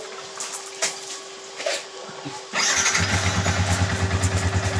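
A Yamaha Sniper 155 motorcycle is started after an oil change. Faint background noise comes first, then the engine catches abruptly and settles into a steady, close, pulsing idle.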